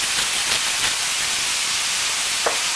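Beef mince browning in a frying pan with salt, giving a steady, close, hissing sizzle throughout with a few faint clicks and no talking.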